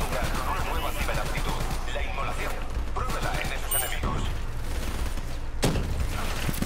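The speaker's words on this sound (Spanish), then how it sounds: "Bueno, ametralladora ligera." Light machine gun firing in Call of Duty Black Ops 3 campaign, dense bursts of rapid gunfire with crashing impacts filling the clip, a voice speaking over the shooting.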